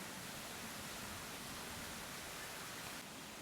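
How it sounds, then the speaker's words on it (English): A faint, steady rushing of a distant waterfall drifts up from a small countryside valley, or gill, on a circular walk near Buxted, an unbroken soft hiss with no voices. "You can hear it in the background, the waterfall."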